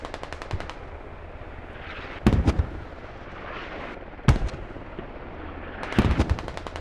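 Bursts of machine gun fire in a competitive World War II-style multiplayer match, three short rattling volleys spaced a couple of seconds apart over a low battlefield rumble.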